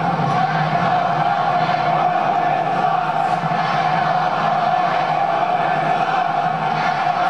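A large wrestling arena crowd roars in a steady, dense wall of noise during a Hell in a Cell match between Roman Reigns and Bray Wyatt, sustained and loud throughout with no distinct speech.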